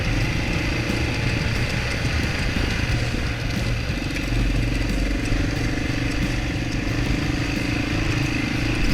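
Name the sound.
motorcycle engine while riding a trail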